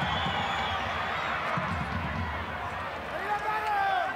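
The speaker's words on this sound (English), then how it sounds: "You can hear the crowd too starting to get behind the home side." Rugby league stadium crowd at a Canberra Raiders versus North Queensland Cowboys match, cheering on the home side: a steady, distant roar of many voices that swells toward the end, with a commentator talking over it.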